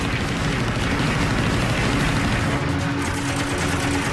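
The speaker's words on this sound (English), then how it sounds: "The Val's rear gunners fire up at Sweat's Wildcat." Machine guns fired by the rear gunners of a Japanese Val dive bomber, heard as a dense, continuous roar of rapid fire blended with engine noise, loud and unbroken throughout.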